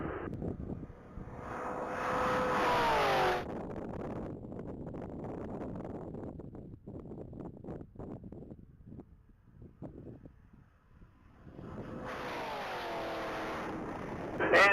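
A Corvette Grand Sport on a top-speed mile run roars past twice, each pass a loud, rising-then-falling engine sweep, with wind buffeting and a commentator talking in the quieter gap between the passes.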